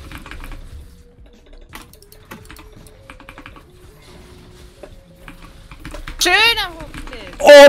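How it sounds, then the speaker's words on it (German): Clattering computer keyboard typing during a League of Levels-style online match, quick scattered key taps up close, with voices chatting over it and a sharp loud burst near the end. "Deine Tastatur ist wirklich irgendwie laut geworden, plötzlich."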